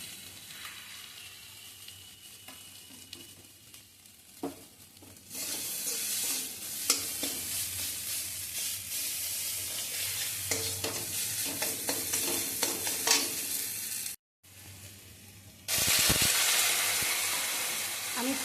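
Brinjal curry with turmeric being stirred in a hot pan, giving a close, steady sizzle with scraping spoon strokes, a brief break, then a louder hiss at the end.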